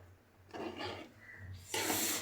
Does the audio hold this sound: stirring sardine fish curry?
yes